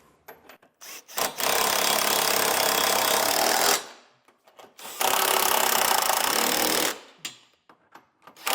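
Power-wrench snugging of hidden trailer hitch receiver hardware, with two long, loud, rattling bursts of a few seconds each separated by a pause and brief clanks of the tool.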